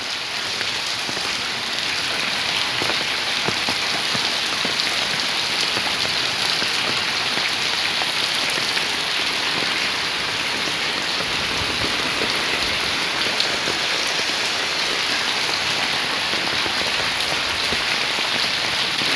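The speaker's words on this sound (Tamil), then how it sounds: "மழை கொஞ்சம் காற்றின் மூலாக இதால் அடித்து செல்கின்றது." Heavy rain in Jaffna, driven by gusting wind, pours steadily and densely onto surfaces nearby, a loud unbroken hiss with no voices over it.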